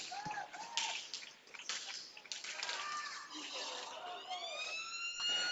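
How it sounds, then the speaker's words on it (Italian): An end-of-game siren sounds at a Serie A2 futsal match between Pumas Viareggio and Prato, its rising harmonic wail near the end cutting through crowd noise and ongoing commentary. "Poi c'è la sirena"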